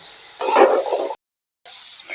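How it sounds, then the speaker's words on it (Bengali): Pumpkin pieces coated in turmeric frying in a pan, with a crackling sizzle and scraping as they are stirred, broken by a brief gap of silence before the frying sound returns. "এই গন্ধটা চলে যাওয়া পর্যন্ত আমি এটাকে ভালো করে ভাজবো"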